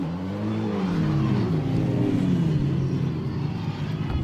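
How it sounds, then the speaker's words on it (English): A Formula Regional Americas race car engine at NOLA Motorsports Park runs close by, a loud steady rumble whose pitch rises and falls with revving over several seconds. "As you can see, they're starting the engine"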